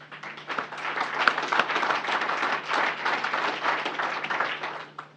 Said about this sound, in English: And the last round of applause is for all of you.